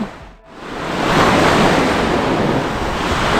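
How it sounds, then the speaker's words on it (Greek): Sea waves roll onto a Greek beach with a small boat out on the water. After a brief dip the surf swells into a loud, continuous wash, with wind buffeting the microphone. "Βλέπεις τα κύματα."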